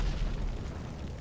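An airplane exploding in the video game GTA 5, a dense low rumbling blast that fills the whole moment at steady loudness, with no talk.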